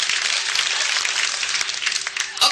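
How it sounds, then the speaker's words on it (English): A crowd applauds steadily, a dense wash of clapping hands that holds throughout at a fairly even level. "let's give a round of applause for Demo Down"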